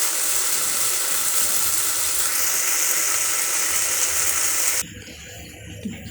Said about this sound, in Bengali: এর মধ্যে গরম জলটা দিয়ে দেবো।